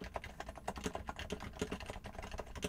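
Quieter typing on a Happy Hacking Keyboard Type-S, a dampened model with softer, muted keystrokes in a fast, even stream, close up and heard alone.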